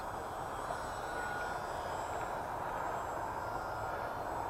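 Small Timby propeller plane engine in a flight simulator game, a steady, even drone humming continuously at moderate level with no talk over it.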